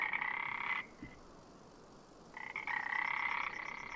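Frog croaking from Farming Simulator 25, a loud continuous buzzing croak chorus that cuts out for about a second and a half midway, then resumes steadily, with no talking.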